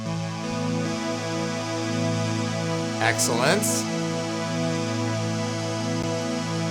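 A dense, steady synth drone with shimmering, randomly shifting tones, a brief spoken word cutting in near the middle.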